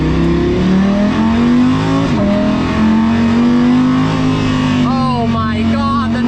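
An Audi R8 LMS GT2 race car driven on the street, its engine loud and close as it revs up and settles, with a sharper rising rev near the end and a strong steady drone throughout.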